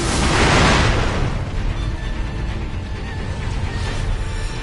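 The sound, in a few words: firecracker burst in Sekiro video game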